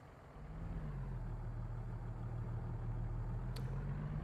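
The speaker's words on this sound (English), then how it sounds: "Start up the engine." A truck engine in American Truck Simulator cranks and settles into a steady low idle, a constant deep rumble with a faint brief click near the end and no voices.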